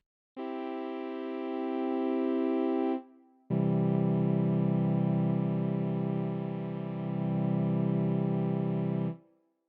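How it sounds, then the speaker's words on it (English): Two sustained Novachord-style synth tones through a one-pole low-pass deep tone filter fixed at 160 Hz, a short one then a longer one after a brief gap, rich in harmonics with a heavy, muffled low end, alone. "Deep tone is a one-pole low-pass filter fixed at 160 Hz. It will add low frequencies to the sound."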